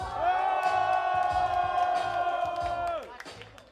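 Audience at a Bulgarian freestyle rap battle night shouting and cheering for a rapper, a sustained loud crowd roar with whoops and yells that drops off abruptly near the end.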